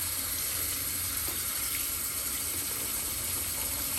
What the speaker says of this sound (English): I'd like to run cold water over them just one more time